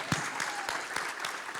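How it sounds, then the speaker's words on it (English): Audience applause at a Cleveland Browns school attendance launch event, a moderate spatter of clapping from a crowd with a few sharper individual claps standing out, heard at a distance. "let's give him a big round of applause."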